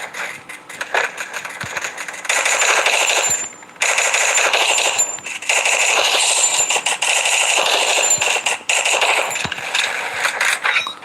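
Rapid machine gun bursts in a Free Fire battle game crackle in long continuous volleys, broken by a brief pause near the middle and short gaps, loud and dense throughout.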